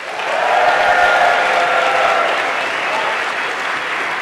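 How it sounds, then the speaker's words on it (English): A live audience at an Ignite Seattle event gives a loud, sustained round of applause for the volunteer organizers, a thick wash of many hands swelling early and holding with little fading. "Let's give them a round of applause"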